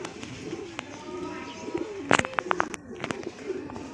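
Pigeons cooing and a few wing flaps or landing thumps as a pigeon arrives at its loft landing board, with soft chirps and light background noise; a person makes clicking call sounds nearby.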